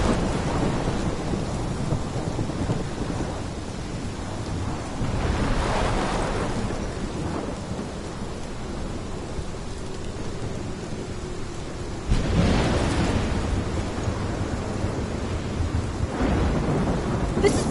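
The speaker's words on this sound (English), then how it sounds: "This is my storm." Thunderstorm in the game Life is Strange: steady heavy rain under long rolling thunder, with two loud booming peaks rising and fading over the constant downpour.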